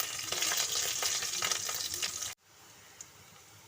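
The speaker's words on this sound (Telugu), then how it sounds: "ఆయిల్ హీట్ అయిన తర్వాత ఇందులోకి ఆనియన్ కరివేపాకు" Onion, curry leaves and dried red chillies frying in hot oil for a tomato egg curry: a loud, dense close-up crackling sizzle with stirring, which cuts off abruptly partway through and leaves a faint hiss with a couple of small clicks.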